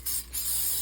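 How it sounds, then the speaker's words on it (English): Candle molds get two quick spritzes from a spray bottle, close and soft, followed by a longer steady hiss of spray, with nobody talking. "So I'm just gonna give it a little spray."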